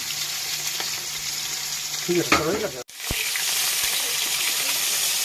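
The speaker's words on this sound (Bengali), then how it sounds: "মাছ ভাজা হয়ে গেছে" Steady oil sizzle and crackle of fish frying throughout, briefly interrupted by a clatter of a utensil and a short voice, then the frying hiss resumes evenly.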